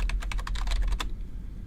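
Quick burst of keystrokes on a computer keyboard, about a dozen crisp taps in rapid rhythm, then silence; close and moderately quiet, with no voices.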